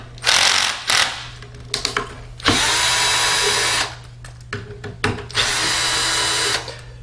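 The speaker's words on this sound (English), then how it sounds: "I am going to use our power driver." A power driver whirs in several sustained bursts while unscrewing screws on a Martin Yale 7000E manual paper cutter, loud and close, separated by short pauses with clicks and handling noise.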